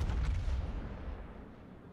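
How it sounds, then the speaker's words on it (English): In a warship video game, a naval gun salvo of high-explosive shells fires, a deep rumbling boom at the start that rolls and fades away over two seconds. "someone is firing with HE"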